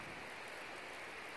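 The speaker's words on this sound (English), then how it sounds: "Now it's raining." Light rain drizzles on a foggy mountain trail on Dog Mountain, a faint, even patter lasting just over a second.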